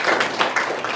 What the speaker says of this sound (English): so here's an applause to you.